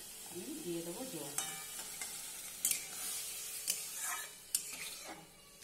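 Stirring a curry of drumsticks cooked with mustard and poppy seed in a pan after water is added, with soft bubbling, a quiet sizzle and a few sharp scrapes and clinks of the spoon against the pan.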